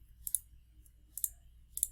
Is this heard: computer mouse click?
yes